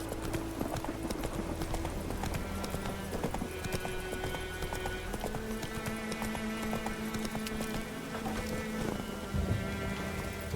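Roach, Geralt's horse in The Witcher 3, trots with steady clip-clop hoofbeats over an ongoing bed of game music and soft rain, the footfalls continuing throughout.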